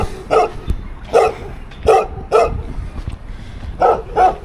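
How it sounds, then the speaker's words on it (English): Dogs on a roadside in Tonga bark about seven times, in sharp, moderately close single barks spaced irregularly, with faint background noise and no talking. "We have dogs here."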